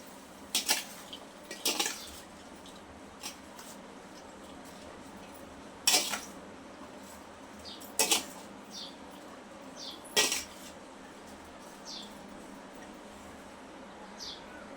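Lemon chili pickle ingredients mixed with Kashmiri chili powder, a quiet room broken by about half a dozen distinct spoon clinks and scrapes against a dish at uneven intervals, close but faint, no voices.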